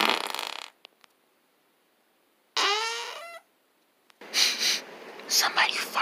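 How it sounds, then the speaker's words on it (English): A short, loud fart sound, a buzzing, wavering squelch of under a second, stands alone between stretches of whispered and breathy voices and hissy noise. "Somebody farted and I don't even know."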